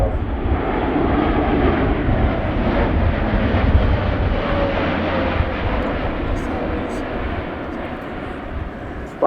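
An Airbus A400M military transport aircraft performs a flying display at RIAT, a loud, continuous broad engine roar holding steady and fading slightly toward the end, with a voice talking over it.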